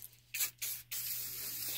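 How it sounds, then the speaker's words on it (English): Three short hissing bursts of WD-40 aerosol spray onto a rag, the last one held longer, close up against a quiet background. "Spray it on the rag."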